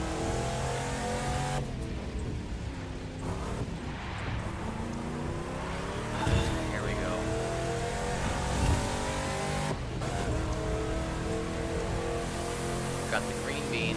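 A car driving in The Crew 2 racing game, with a continuous engine drone that rises and falls through gear changes under steady road noise, while a person talks over it.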